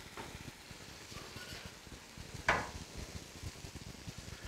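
Meat with onions, peppers and tomatoes cooks on a Blackstone griddle, giving a steady low sizzle with scattered utensil scrapes and one sharper metallic clink midway.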